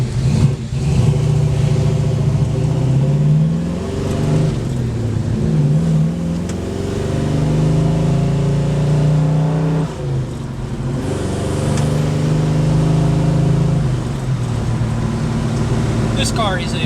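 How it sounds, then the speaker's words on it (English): A big block Mopar Roadrunner with a 4-speed, running a touch rich, revs loudly and steadily while driving, its deep engine drone rising and falling through shifts, with a voice talking over it much of the time. "This car is a blast to drive. It has power on demand."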